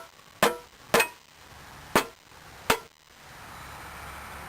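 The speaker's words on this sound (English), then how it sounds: "we want to go ahead and tap on it with a rubber hammer" A rubber hammer taps on a part of a Husqvarna 600 CRT during repair, four sharp, separate knocks at uneven intervals, close and loud over quiet room noise.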